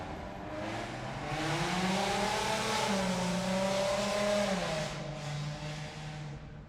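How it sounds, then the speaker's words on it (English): A car engine revs up, its pitch climbing and then dropping as it passes nearby, a loud sustained drone that fades at the end. "this car's passing by. All this noise, it's not going anywhere."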